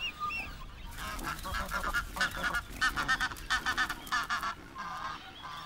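A flock of Cape Barren geese on Kangaroo Island honking repeatedly, loud, harsh calls coming in rapid bursts that overlap one another, with no voices.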